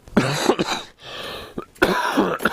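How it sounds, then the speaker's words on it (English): A few harsh, close coughs break out in quick bursts, with a short pause between them and a final throaty cough. "Good old cough."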